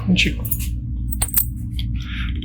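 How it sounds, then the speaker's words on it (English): Original keys for a 1967 Volkswagen jingle and clink together in a few short bursts, close by, over a low steady hum. "It's got all the original keys with it still."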